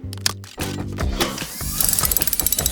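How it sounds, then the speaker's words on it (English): Cartoon unbolting of a tangled helicopter's rotor blades in a garage: a quick run of ratcheting wrench clicks and clanking mechanical clatter, loud and close, over a bouncy musical backing with no voices. "To untangle Helena's rotor blades, we have to unbolt them."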